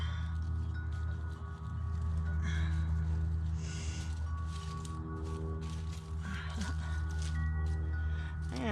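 A hand tool digs into garden soil to plant pea seeds, giving soft, close scraping and squishing crunches at an uneven pace, with a low background hum underneath.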